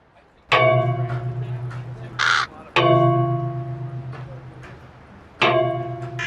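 Three loud, harsh caws from a crow ring out at intervals, each drawn-out and ringing, with a short scratchy sound between the first two.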